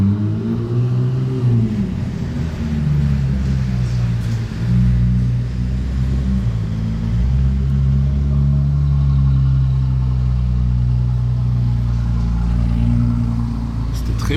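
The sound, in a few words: Ferrari 296 with Novitec wheels, engine noise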